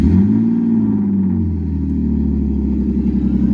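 A rebuilt turbocharged BMW 320i engine runs right after starting, a loud, close, low rumbling idle with a brief rise in revs early on before settling into a steady throb.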